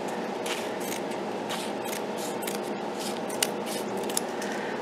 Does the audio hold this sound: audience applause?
no